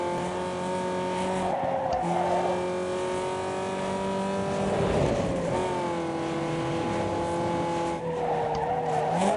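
A car in the racing game Need for Speed Underground 2 brakes hard and skids, tires squealing loudly in long sustained screeches over a steady engine drone, with no voices.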